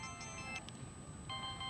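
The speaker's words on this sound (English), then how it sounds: "Go down to the ringtone." A mobile phone's ringtone plays at a steady level, tonal chime notes sounding alone in two short bursts with a gap between them.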